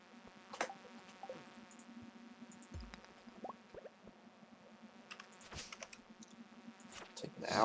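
Bees in Stardew Valley give off a low, steady buzzing hum beneath scattered clicks and taps, moderately quiet, with brief sharper noises over it.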